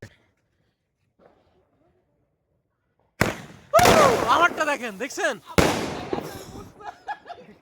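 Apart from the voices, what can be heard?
firecrackers bursting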